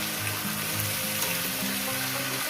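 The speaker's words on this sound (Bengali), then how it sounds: "কুমড়ো গুঁড়ো দিয়ে আরও আমি চার পাঁচ মিনিট এটাকে ভাজতে থাকবো" Pumpkin and a catla fish head, with Malabar spinach, fry in a pan, giving a steady dense sizzle throughout with faint tonal hum beneath.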